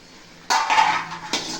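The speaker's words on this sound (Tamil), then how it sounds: "சிக்கனை நம்ம மூடி வச்சுருந்தோம், அது இப்போ ஓப்பன் பண்ணி பார்க்குறேன்" A metal lid clatters as it is lifted off a cooking pot of village-style chicken gravy, ringing briefly, then a second lighter clink follows; close and loud, with no voices.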